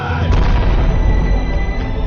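An explosion from the 2009 war film Three Kingdoms, a deep rumbling boom that rolls on for about two seconds with no clear break, loud and dense.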